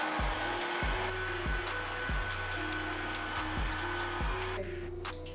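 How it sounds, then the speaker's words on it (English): A hair dryer blows steadily and close up while drying hair, its whine rising and dipping in a repeating rhythm for several seconds. No one speaks. "blow dry your hair right now"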